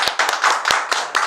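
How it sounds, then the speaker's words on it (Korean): An audience claps in thanks after a lecture, a close, steady patter of many hands with a few louder individual claps cutting through, with no talking over it. "다시 한번 우리 어성일 우리 단장님 수고하셔서 큰 박수로"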